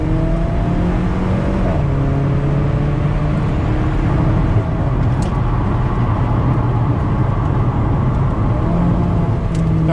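An Alfa Romeo 4C drives on an empty runway, heard from inside the cabin as a loud, steady engine drone whose pitch drops and rises with gear changes.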